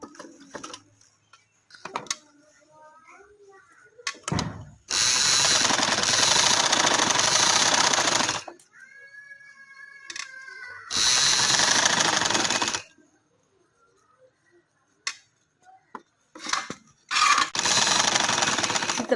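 Sewing machine stitching wide golden lace around the edges of a dupatta, with three loud bursts of steady machine whirring separated by quiet pauses and faint handling noises.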